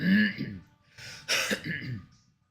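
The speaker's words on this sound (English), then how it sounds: "I have trouble clearing my throat" A person clears their throat with a couple of rough, harsh bursts, close to the microphone, with brief pauses between.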